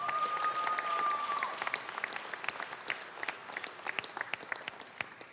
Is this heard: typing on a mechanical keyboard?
no